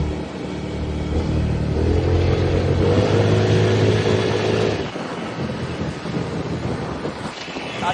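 Cars roll past outdoors, with a loud low rumble that swells and then fades, accompanied by heavy wind buffeting and a few faint voices in the background.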